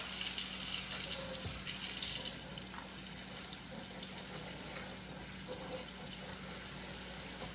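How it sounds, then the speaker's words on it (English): A kitchen tap runs a steady stream of cold water over cooked spaghetti noodles, giving a continuous hiss and splash that is strongest at first and then settles into an even flow. "I'm gonna just hit these noodles with some cold water to stop them from cooking."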